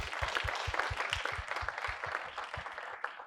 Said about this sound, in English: Yes, give them a round of applause, definitely.